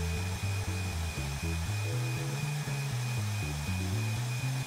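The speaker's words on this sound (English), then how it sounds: "This is actual speed cutting through 3/8 inch steel." A small metal-cutting bandsaw on a stand slices through 3/8 inch steel, giving a steady, loud mechanical drone with a continuous high whine and a pulsing low hum, close by and with no voices.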